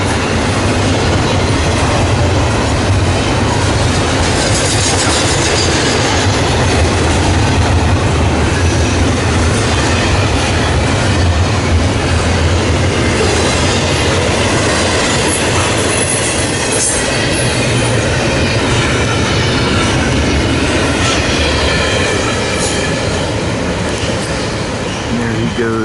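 A train rolls westbound past Woodbourne Station on the West Trenton line heading toward Philadelphia, loud and close the whole time, with a steady roar of wheels on rails, rhythmic clacking and occasional high wheel squeal.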